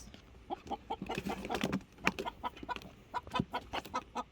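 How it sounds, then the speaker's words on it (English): Chickens cluck and murmur close by as they are let into a chicken tractor, with a run of short, repeated clucks and a few louder squawks, fairly faint overall. "We are releasing some of our chickens into the tractor."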